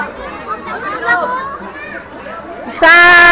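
Children shouting and chattering together while playing at a resort, a busy mix of young voices near and far, with a louder burst of shrill voices near the end.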